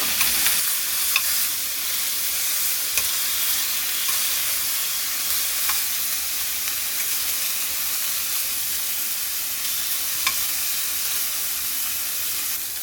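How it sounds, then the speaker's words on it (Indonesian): Meat browning in a hot pan for Lebaran cooking, a loud, steady close-up sizzle and hiss with faint occasional crackles and spatters, no talking. "Emang seperti itu kalau masak daging. Jadi di browning dulu."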